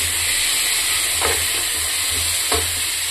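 Cauliflower with green peas and mixed vegetables fries in a hot pan with a steady, loud sizzle, broken by two brief scraping stirs of a spatula; no voices.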